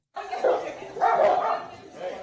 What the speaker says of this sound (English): Oh, two dogs fighting.